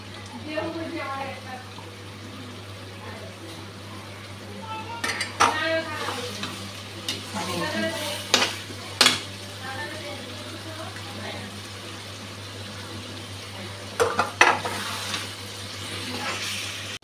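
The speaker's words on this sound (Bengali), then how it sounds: "এখন আদা বাটা, রসুন, পেঁয়াজ এগুলি বাটাগুলো দিয়ে দিচ্ছি, কাঁচা লঙ্কা বাটা।" Ginger, garlic, onion and green chilli paste hits a hot pan for a chicken curry, a steady low sizzle with spoon scrapes and clinks throughout, close by, with a constant hum beneath.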